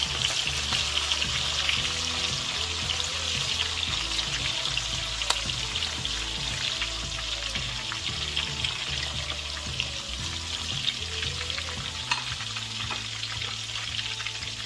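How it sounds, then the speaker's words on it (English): Vegetable oil sizzles and fries steadily in a pot for vegetable stew, a dense continuous crackle heard up close with no talking and a faint low hum underneath. "So just let it fry."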